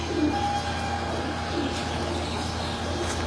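A pigeon cooing in a breeder's loft, soft low coos repeating among a few faint bird calls over a steady background hum.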